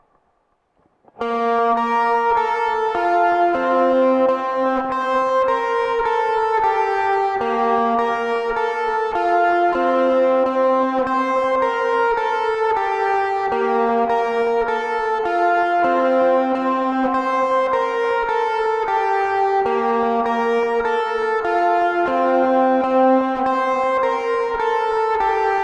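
Electric lead guitar plays the bridge pattern of a song, a steady run of clean, effects-treated single notes stepping through a repeating melodic figure, close and unaccompanied with no talking.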